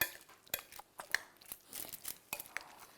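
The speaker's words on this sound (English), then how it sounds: "I'm gonna mix it up." Ingredients for an Indian Bombay-style dish being mixed up in a pot, giving soft scraping, clinking and rustling stirring noises in irregular bursts, close and fairly quiet, with no talking.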